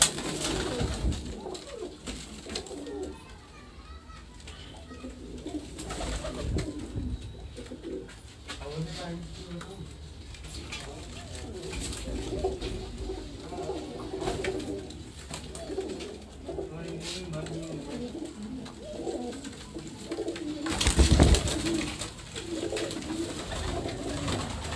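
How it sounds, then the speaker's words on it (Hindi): Young pigeons coo from a rooftop loft in Larkana, Sindh, soft repeated throaty coos and flutters close by, with someone talking over them much of the time and a brief bump near the end. "ये सब उन्हीं कबूतरों के पट्ठा पट्टी हैं, जवान नर और मादियाँ इन्होंने अलग खड़ी की हैं"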